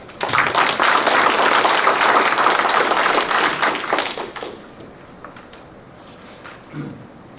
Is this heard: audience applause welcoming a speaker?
yes